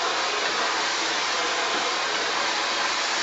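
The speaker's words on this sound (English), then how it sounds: "I put the nozzle on the dryer because I think that makes a big difference." A handheld hair dryer fitted with a concentrator nozzle runs on high, a loud, steady, close airy roar with no pauses.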